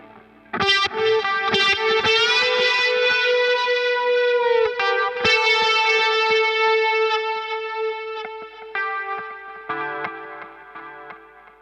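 Electric guitar notes and chords through a BOSS Katana MK2 amp's reverb, from its mono output, ring out drenched in reverb, sustaining and overlapping into a wide wash before fading at the end.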